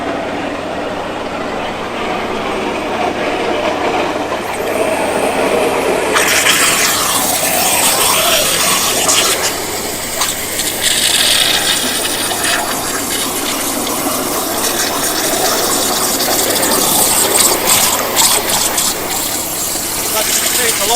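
A waterjet cutter with its nozzle not submerged roars with a loud, continuous high-pressure hiss and spray throughout, with mechanical rumble underneath and a brief voice partway through.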